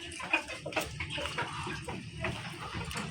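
Chickens, kept on a farm alongside ducks, cluck softly and faintly against a quiet, slightly watery background, with a few brief louder calls.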